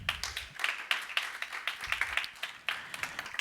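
A church congregation claps hands in a quick, steady rhythm during a sermon, a close run of sharp, even claps with no talking.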